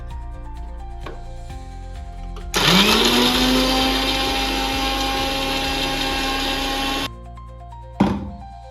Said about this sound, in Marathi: आता आपण ह्या काढलेला पल्प आपण मिक्सर मध्ये बारीक करून घेऊया